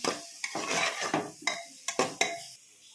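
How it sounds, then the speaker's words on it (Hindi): Masala spices frying over a medium flame in a pan for chole, stirred with a metal spoon that scrapes and clinks several times over a soft, close sizzle. "मसाले को मीडियम फ्लेम पे भूनेंगे।"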